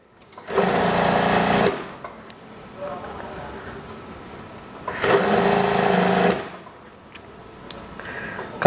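Sewing machine stitching a kimono-style daster, running in two loud close bursts of about a second each separated by a quieter pause with faint handling noise.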